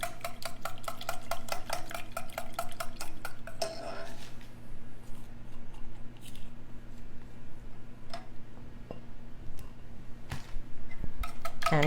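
A spoon stirs eggs into a chocolate coconut pie filling of milk, sugar, butter and chocolate in a bowl, with a rapid clinking at first, then steady scraping and occasional taps against the bowl.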